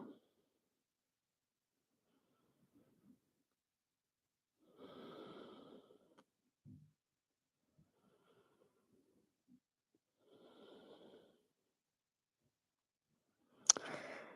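Slow, deep breaths during a yoga session, a few soft, separate inhales and exhales spaced apart in near silence, close and quiet, with a small sharp noise at the end.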